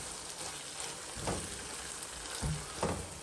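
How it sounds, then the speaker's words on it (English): Scallions stirred into beef patty filling cooking on the stove, a soft continuous sizzle with a few brief scraping stirs, faint and close, no voices. "we're just gonna add in our scallions here now. And we're just gonna mix this in"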